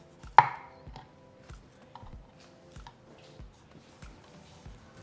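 Tomatoes sliced into strips with a knife on a cutting board, a sharp opening cut followed by a steady series of light, evenly spaced chops, close and fairly quiet, with no talking.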